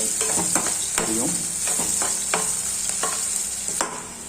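Green chillies temper in hot oil while a spoon stirs the pan, giving a steady loud sizzle with repeated scraping clicks and taps of stirring throughout.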